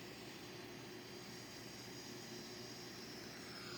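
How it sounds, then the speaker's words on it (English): An Airbus A330's left wing jet engine starts up as a faint, continuous roar and whine with a slight rising tone toward the end, heard from a distance with no speech. "The left wing engine goes on right now"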